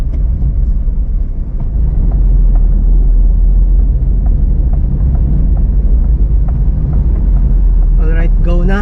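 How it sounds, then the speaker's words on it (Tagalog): City street traffic in Cagayan de Oro, a loud, steady low rumble of engines heard from inside a moving vehicle, with a faint horn or voice near the end. "traffic"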